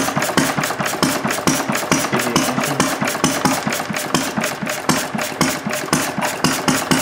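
A glass-head engine turns slowly at about 200 RPM, its loud, close, steady knocking pulses repeating at an even rhythm over a continuous mechanical hum, with no talking.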